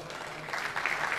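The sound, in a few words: audience applause at a gala evening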